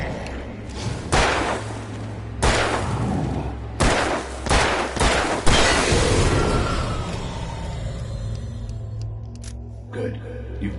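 Gunfire in the Alan Wake video game booms out as a series of loud, sharp shots spaced a second or so apart, with speech and dark ambient rumble underneath before things quieten.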